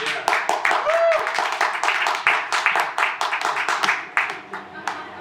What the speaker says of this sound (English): That's John clapping for the Denver Nuggets. What a beautiful sound.